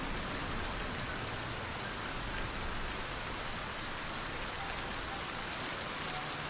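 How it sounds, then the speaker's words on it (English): Steady rain hisses evenly and continuously in the video game Project Zomboid, a dense wash of falling drops with no breaks or voices. "You love the sound of rain as long as you're not in it?"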